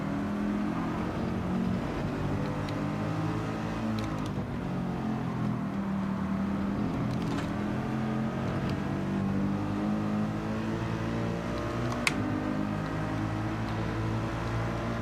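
Hypercars race in a video game with a steady, moderately quiet engine drone that holds and shifts pitch, with a few faint clicks, and no voices.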